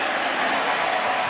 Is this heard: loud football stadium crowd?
yes